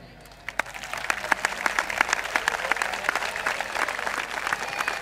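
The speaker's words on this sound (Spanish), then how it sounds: "pido un fuerte aplauso a todos los padres y afición que nos han venido a ver esta tarde" Parents and fans applauding at a youth football school presentation in Santiago del Teide, starting with a few scattered claps and building into steady, moderately loud clapping from a modest crowd.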